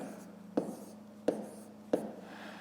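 A pen writing numbers on paper while working a fifth-grade multiplication problem: three sharp, evenly spaced strokes over a steady low hum, with no talking.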